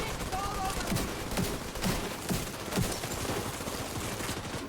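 Rapid gunfire from The Division 2 in a busy firefight, repeated shots and bursts running throughout at steady loudness, with a voice talking over the action.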